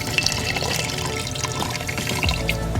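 Soaking liquid from dried shrimp and shiitake mushrooms is poured into sticky rice, a steady close splashing trickle of liquid that runs without a break.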